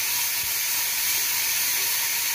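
A thick ground paste for tomato chutney hits hot oil, producing a loud, continuous hissing sizzle close by, steady from start to finish with no talking.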